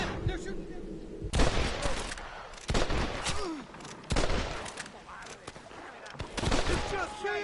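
Gunfire in the remastered Red Dead Redemption video game crackles in loud, close fusillades: several sharp bursts of shots come in quick succession, with a rumbling battle din between them.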